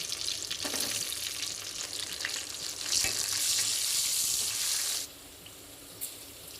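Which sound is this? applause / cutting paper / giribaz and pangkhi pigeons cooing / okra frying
okra frying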